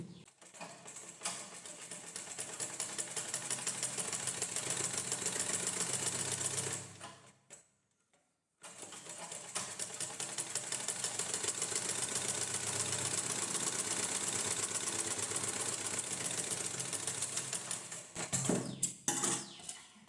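Sewing machine stitching the hem edge of a plain blouse, a steady close mechanical whirr running loud and continuous for about seven seconds, a brief pause, then another long unbroken run to the end.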